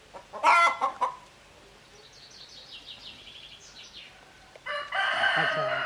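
A rooster crows nearby, then a stretch of quiet clucking, then another loud crow starts near the end.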